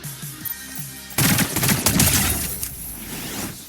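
Video game gunfire crashes in as a sudden loud burst of rapid automatic shots after quieter game sounds, then trails off into scattered reports and echoing clatter.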